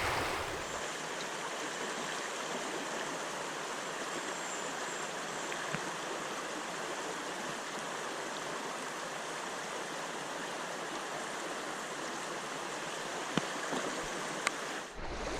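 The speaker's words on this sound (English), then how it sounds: "this water looks great, lots of pocket water, and it goes down into a nice pool down below" West Canada Creek runs over pocket water and spills into a pool below, a constant broad rushing roar close by, with a couple of faint knocks near the end.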